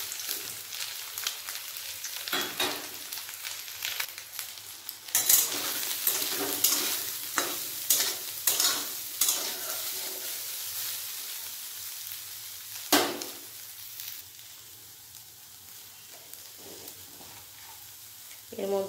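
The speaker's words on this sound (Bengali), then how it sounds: "হালকা করে তেল দেবো সয়াবিনগুলো ভাজার জন্য। তেল গরম হয়ে গেছে" Washed soybeans fry in hot oil in a kadai, with a steady, close sizzle and repeated scraping stirs that grow busier before the sizzle settles into a softer hiss.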